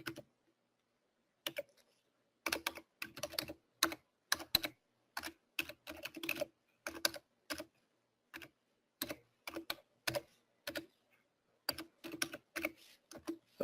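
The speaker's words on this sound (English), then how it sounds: "let me type that in" Fingers type on a computer keyboard up close, with quick clusters of plastic key clicks separated by short pauses, heard alone in a quiet room.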